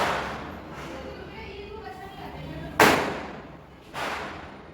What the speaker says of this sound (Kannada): ಪಟಾಕಿ ಹಚ್ಚಬೇಡಿ ಹಚ್ಚಬೇಡಿ ಅಂತಾರೆ ತಾನೇ ಹಚ್ತಾ ಇದ್ದಾರೆ